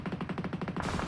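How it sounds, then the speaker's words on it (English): Rapid automatic gunfire from the video game PUBG Mobile rattles in a quick, even burst of about ten shots, fairly faint and brief, with no voices over it. "those gunfire is actually coming from another squad right down below"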